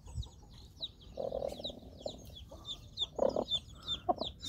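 A black hen sitting on her eggs in a cramped, quiet poultry coop, with bursts of soft clucking close by over a busy backdrop of higher bird chirps and calls.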